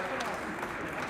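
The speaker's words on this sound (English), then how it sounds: "applause." Brief, fairly faint applause as arriving passengers enter, a short burst of many hands clapping under a noisy, echoing backdrop.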